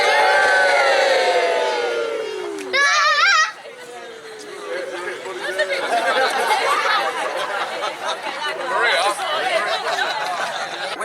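Wedding guests shout and cheer together with raised hands, a loud crowd of adult and children's voices with a brief high burst of shouting partway through, settling into busy chatter.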